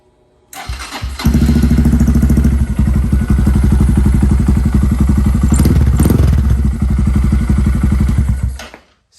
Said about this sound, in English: The sound of the exhaust is all right.